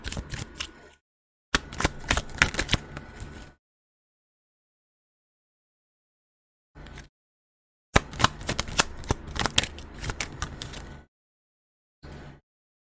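Tarot cards shuffled by hand in short bursts of rapid riffling clicks, with several longer runs separated by silences and a couple of brief flicks, close and moderately loud.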